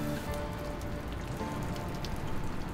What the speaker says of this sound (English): Well, we just beat the rain with our walk.